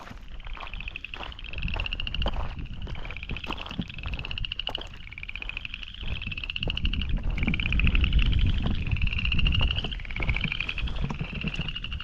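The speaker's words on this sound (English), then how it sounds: "I hear frogs." Frogs croak in a steady, rhythmic chorus of rasping calls, repeating every second or so over low wind and outdoor rumble.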